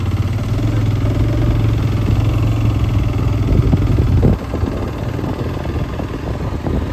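A motorcycle engine runs steadily during a ride, a loud continuous drone that briefly swells around the midpoint before settling again, with no voices.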